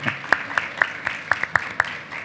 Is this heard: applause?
yes